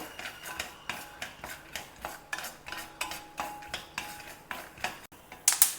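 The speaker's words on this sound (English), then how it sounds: "Add about 1/4 cup of peanuts and roast it well." Peanuts roasting in a teaspoon of hot oil are stirred around a pan, giving a steady run of light scraping clinks and rattles roughly every half second, close and moderately quiet, with no talking.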